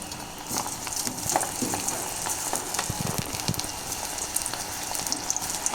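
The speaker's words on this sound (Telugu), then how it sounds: "ఇట్లా నేను ఒక్కొక్కటిగా నూనెలో వేస్తున్నాను" Soya chunk pakodi fry in hot oil, a dense, steady sizzle and crackle with scattered sharper pops, close and moderately loud with no talk.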